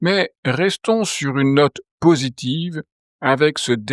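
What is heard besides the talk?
No everyday noises stand out.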